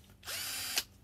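A Parkside PBSA 12 C2 cordless drill, set to its drilling gear, spins freely for under a second with a steady, close whir that ends in a brief rise as it stops.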